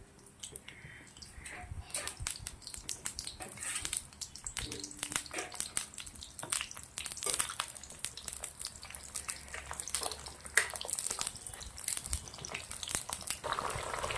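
Pointed gourd (parval) pieces frying in hot oil produce a soft, steady crackle and bubbling hiss with scattered small pops, fairly quiet and continuous throughout.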